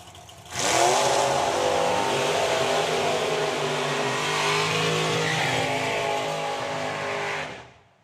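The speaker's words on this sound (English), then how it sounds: "Ron Bartlett doing what Anglias were always born to do. Huge smoky burnouts." An Anglia drag racing car does a huge smoky burnout at a drag racing meet, its engine roaring loud and sustained at high revs for several seconds before cutting off abruptly.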